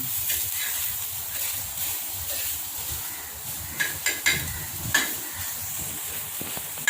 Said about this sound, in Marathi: मसाला छान भाजून घ्यायचा